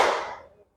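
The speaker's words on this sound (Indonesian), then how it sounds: "Oke, tepuk tangan semuanya ya" A classroom of students claps together once in a short, bright burst that fades within about half a second, with no voices.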